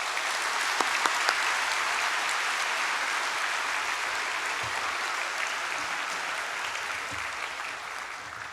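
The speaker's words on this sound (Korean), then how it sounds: "가장 따뜻한 박수로 우리 환영하도록 하겠습니다" Sustained applause from a large church congregation at a Sunday service, steady and even clapping filling the room throughout.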